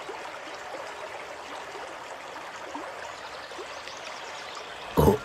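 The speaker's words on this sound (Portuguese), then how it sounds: "Ele foi beber água logo no riacho da Yara." Cartoon stream water trickles and babbles steadily at moderate level with no talk, and a brief louder splash or knock near the end.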